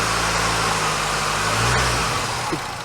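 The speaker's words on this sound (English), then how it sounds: "these old Quad 4s are kind of noisy motors. You hear that little tap?" A 1997 Chevrolet Cavalier's Quad 4 engine idles close by, a constant low drone with a faint lifter tap ticking through it, no voices.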